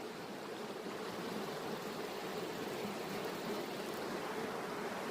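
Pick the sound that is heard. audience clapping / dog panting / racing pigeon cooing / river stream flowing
river stream flowing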